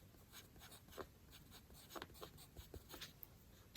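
A pencil scratches faintly on paper during Japanese study, with soft, irregular strokes and brief pauses, close and quiet, with no voices.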